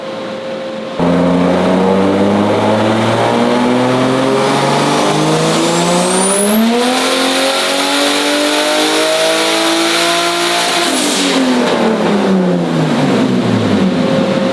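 A forged, turbocharged BMW M50 engine in an E30 makes a full-power pull. The engine note climbs steadily in pitch under a rising turbo whistle, holds at the top, then drops away as the throttle closes. It is loud and close, with no talk.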